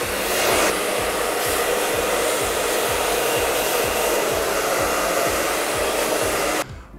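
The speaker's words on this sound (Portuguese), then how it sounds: "Agora, com o secador, vou dar uma ajeitada na franja." A hair dryer blowing while a fringe is styled, a loud steady whirring hiss with a rhythmic low fluttering pulse underneath, running continuously close up before cutting off abruptly near the end.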